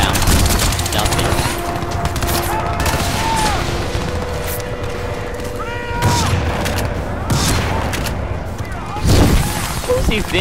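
Suppressed gunfire in the video game Crysis 2 comes as scattered soft shots and bursts within a dense, busy game soundscape.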